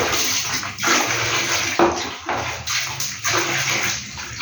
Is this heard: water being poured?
yes